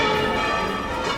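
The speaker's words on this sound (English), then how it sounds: "Church bells signal that it's time for Mass." Large cathedral bells in Spain ring out, a rich, resonant peal with overlapping tones that hang in the air.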